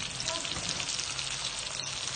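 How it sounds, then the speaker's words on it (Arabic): Salmon fillet sizzling and frying in butter with whole rosemary sprigs and garlic, a steady close crackle throughout with no pauses. "انا قلبت السلمون، سمكه السلمون الجميله، وحطيت لها روزماري كتير اهو"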